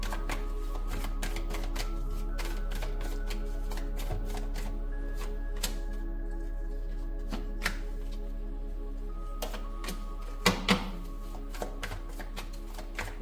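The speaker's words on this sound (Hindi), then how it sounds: "अब मैं बाकी कार्ड्स निकालूंगी शफल करके।" Tarot cards shuffled in the hands give soft, close riffling taps and clicks in uneven clusters over a steady low electrical hum, with a couple of louder snaps near the end.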